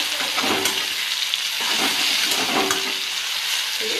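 Onion, grated ginger-garlic and chopped tomato sizzle loudly in a pan while being stirred, a continuous close hissing fry with scraping strokes and occasional clinks.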